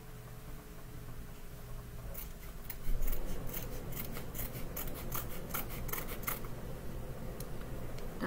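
Scissors snip thread for a rag quilt, a quick series of sharp close cuts over a soft steady background hum, with no speech.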